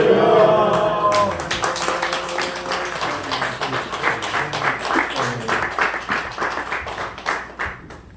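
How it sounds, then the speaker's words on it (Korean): An audience at a Christian businessmen's festival claps to welcome a speaker, a dense burst of applause that gradually thins and fades away, following a brief voice at the start. "박수로 환영했으면 좋겠습니다"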